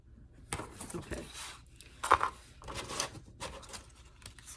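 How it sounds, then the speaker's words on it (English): Paper being cut with scissors for a craft shadow box, giving a series of crisp, brief snipping bursts spread through a few seconds at close range. "try these other scissors."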